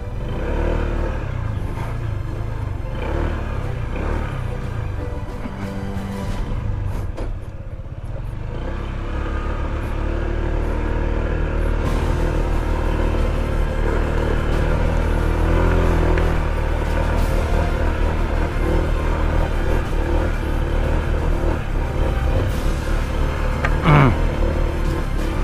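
Motorcycle riding a forest trail through the Sierra Madre mountain range, its engine droning loudly and steadily up close with rising revs, a brief dip, and clattering bumps along the rough path.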